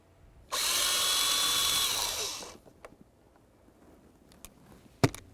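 A power tool whirs steadily for about two seconds, backing out Phillips head screws from beneath the steering column of a 2003-2007 Honda Accord, then spins down and is followed by a few small clicks and a sharp knock.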